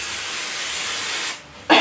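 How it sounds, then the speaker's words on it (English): Temporary adhesive spray hisses from an aerosol can onto the wrong side of Christmas apron fabric in one long steady burst, pauses, then starts again with a short loud spurt. "spray your temporary adhesive spray on the wrong side of the fabric"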